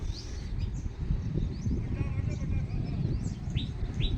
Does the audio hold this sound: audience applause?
no